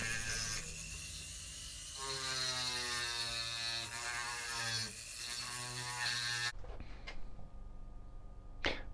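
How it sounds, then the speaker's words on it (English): A Foredom SR series flex shaft rotary tool, a pendant-motor tool used on wood, runs with a steady high whine whose pitch rises and falls as its speed changes, then cuts off abruptly, leaving a few faint clicks. "that's the uh, Foredom SR series flex shaft"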